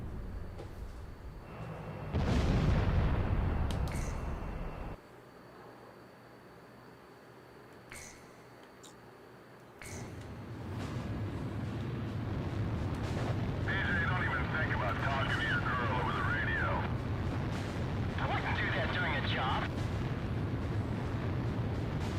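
Missile explosions in the combat flight game Ace Combat Zero: a loud roaring blast, then rumbling impacts and sustained engine and explosion noise under game effects.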